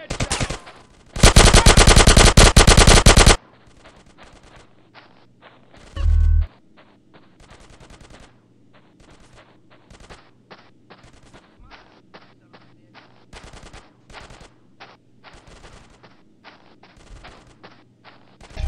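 Loud bursts of automatic gunfire in GTA San Andreas: one long sustained volley early, then scattered rapid shots and short bursts over a quieter game background.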